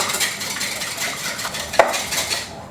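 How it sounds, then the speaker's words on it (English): Whole eggs whisked in a bowl for a pumpkin cake batter, a quick rhythmic metal-on-bowl clatter, close and fairly loud, with one sharper clink partway through. "We've got in our bowl whole eggs. Give them a whisk."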